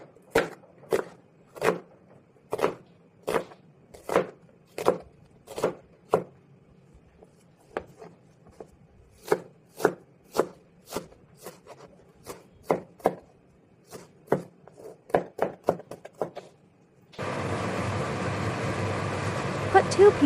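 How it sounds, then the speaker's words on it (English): An onion chopped into small pieces on a board, crisp knife knocks in a regular rhythm, then faster uneven bursts, ending in a loud steady hiss of butter melting in a hot pan. "Chop the onion into small pieces."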